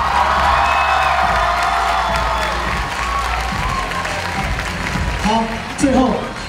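An audience claps steadily with cheering and a few whoops at the 2014 HRC annual dance training showcase "One Day". The applause stays loud and dense throughout, with a brief swell of shouting near the end.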